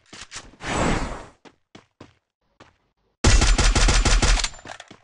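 Automatic M2B rifle fire in a shooting video game, a short early volley and then a dense rapid burst near the end, loud and close.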